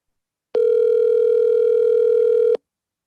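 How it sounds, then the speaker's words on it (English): A single steady electronic telephone tone sounds for about two seconds, clear and close, then stops, leaving silence before and after. "Wow, it's ringing."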